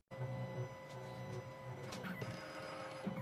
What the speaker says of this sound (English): The machine is decoding the lateral side.